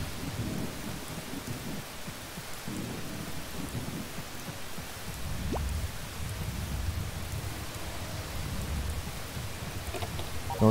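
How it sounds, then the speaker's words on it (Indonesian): Steady rain pours down in the farming game Harvest Moon: Save the Homeland, a constant dense wash of drops with soft low rumbles underneath, filling the whole stretch evenly with no voices. "Iya ini hujannya nggak mesti berhenti nih."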